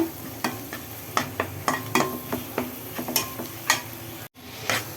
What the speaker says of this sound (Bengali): মানে চুলা ভাজার জন্য মশলা ভাজা হচ্ছে